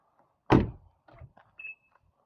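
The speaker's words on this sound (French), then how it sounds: "il y a un truc que je viens de remarquer en ouvrant ma porte passager" A Mazda MX-5 ND passenger door swings open with a loud close clunk, followed by softer latch knocks and a faint thin squeak, heard alone without talking.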